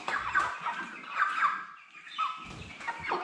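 Broiler chickens (Cobb 500, 50 days old) cluck and murmur close by, a steady stream of soft clucks and squawks with no talking.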